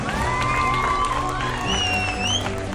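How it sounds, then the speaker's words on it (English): A university prize distribution crowd applauds and cheers for a winning team, a continuous dense roar with some whistling and shouts rising over it. "A big round of applause for Team Vikings."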